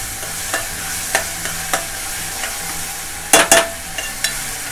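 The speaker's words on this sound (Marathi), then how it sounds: "आता ही जरा आलं लसूणची पेस्ट आपण भाजून घेऊया" Ginger-garlic paste sizzles and fries in hot oil in a pan, stirred with a spoon that clinks and scrapes in several short strokes, one quick double scrape standing out, close and fairly loud with no talk.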